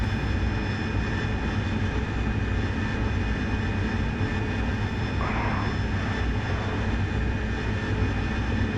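A steady, loud aircraft engine drones in the DCS World flight game, a continuous propeller-and-engine roar that holds constant throughout without talk.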